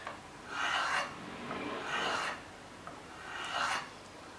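A hand plane blade is dragged across sandpaper folded over a flat surface while being sharpened, making three slow, close rasping strokes with brief quiet gaps between them.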